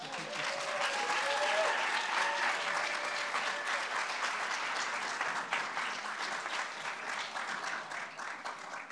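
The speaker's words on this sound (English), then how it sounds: "Let's have one final round of applause for all our speakers today." An audience at a university engineering graduate research showcase applauds its speakers, a sustained wash of many hands clapping that holds steady for several seconds, full and even, with a faint murmur of voices underneath.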